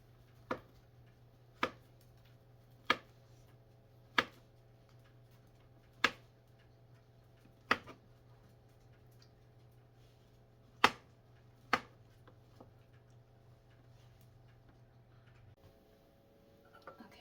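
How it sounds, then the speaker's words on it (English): Bananas sliced with a knife on a cutting board for an upside-down cake: about nine crisp, sharp taps spaced a second or two apart, close and clear against a quiet room with a faint steady hum. "now I'm going to cut the bananas up"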